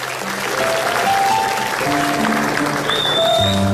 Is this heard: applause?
yes